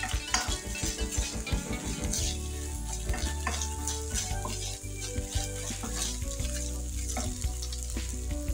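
Oil sizzles loudly and continuously in a pan while beef spaghetti stir fry is cooked, with repeated metal utensil scrapes and clinks of stirring against the pan close by, and no talking.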